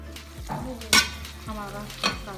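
Chicken karahi masala cooking in a covered wok over a low flame, with a soft, steady sizzle broken by a few brief stirring clatters, heard close and fairly quiet.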